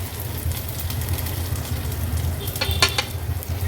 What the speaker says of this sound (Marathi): व्यवस्थित ही फोडणी आपल्याला अशी मिक्स करून घ्यायची